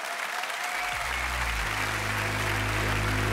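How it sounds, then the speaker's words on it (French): Loud, sustained applause from a studio audience welcoming two TV game show contestants, a dense wash of clapping that swells within the first second and keeps going at full strength to the end. "On les applaudit bien fort!"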